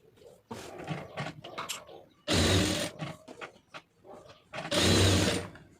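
A sewing machine runs a small running stitch around a blouse lining in two brief, loud bursts of whirring, with someone talking before, between and after them.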